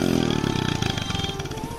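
Hero Splendor motorcycle engine idling through a new silencer exhaust, a rapid, throbbing, close exhaust thump that stays steady and fairly loud for a brief moment.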